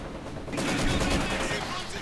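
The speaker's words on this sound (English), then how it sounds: "the Panzer Grenadiers find themselves under fire from the Maxim, perched on the hill above" A Maxim machine gun in a strategy video game fires a sustained rattling burst that starts halfway through and keeps going under a commentator's voice.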